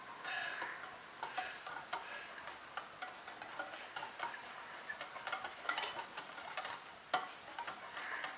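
Cake batter with vanilla essence and vegetable oil is mixed in a bowl, producing quiet, rapid, rhythmic clicking taps of the utensil against the bowl's sides.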